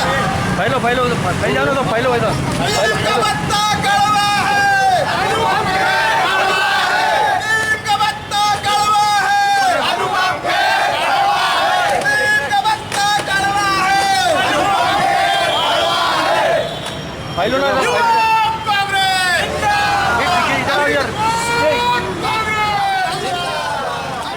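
Protest crowd chanting slogans against the Bharatiya Janata Party government, a loud, dense mass of rhythmic shouting voices with repeated chant phrases throughout, briefly dipping before resuming.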